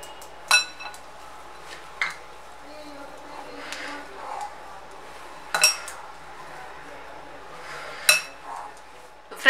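Potato poha dough ingredients mixed by hand in a metal bowl, with a few sharp clinks of utensils against the rim over soft scraping and a faint background voice.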